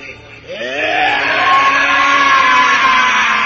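A man lets out one long, loud, sustained scream that rises and holds steady for several seconds, close to the listener.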